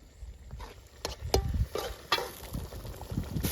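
Bitter gourd curry, pavakkai kulambu, simmers on low heat in a pan. Soft sizzling and bubbling sit under a few sharp knocks and scrapes of a spoon stirring, with no talk.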